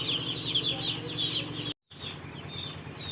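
Broiler chickens on a farm clucking and chirping in a busy, continuous chorus close by, with a brief cut to silence midway before the flock noise resumes.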